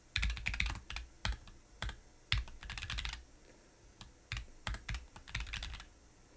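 Computer keyboard keys are typed in bursts of quick clicks while Python code is written, with short pauses between runs; close and clear, no talking.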